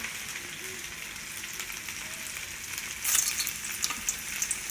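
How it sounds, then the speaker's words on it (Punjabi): Onions frying in hot oil for a small bitter gourd curry, a soft, steady sizzle with a brief louder crackle burst near the end, no voices. "ਆਪਾਂ ਇਧਰਲਾ ਤੇਲ ਵੀ ਗਰਮ ਹੋ ਚੱਲਿਆ ਤੇ ਆਪਾਂ ਇਧਰ ਵੀ ਪਿਆਜ਼ ਵਿੱਚ ਪਾ ਲਾਂਗੇ"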